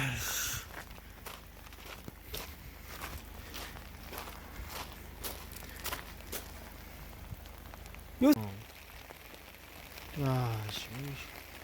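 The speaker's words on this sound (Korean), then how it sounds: "비가 이렇게 많이 오냐?" Heavy rain falls on a flooded campsite beside a tent, a steady patter of drops on surfaces with footsteps and scattered taps close by, and a voice speaks briefly near the end.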